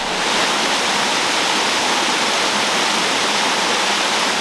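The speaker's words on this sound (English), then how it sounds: "I wanted to stop and get a video of that waterfall" A waterfall on the West Highland Way in Scotland pours with a loud, steady, broadband rush from nearby, and no one speaks.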